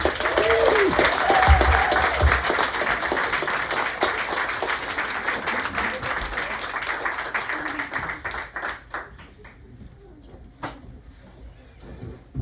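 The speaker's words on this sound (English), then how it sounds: "Big round of applause for Dana Peterson, everybody." Comedy club audience at a ladies night show applauds and cheers loudly for a female comedian taking the stage, the clapping dense at first then thinning and fading over several seconds, with a few voices and whoops mixed in.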